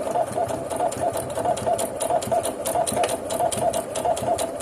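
A domestic sewing machine stitches knit fabric with a straight stitch, its needle pounding in a fast, even rhythmic chatter close by, steady and loud throughout without pause.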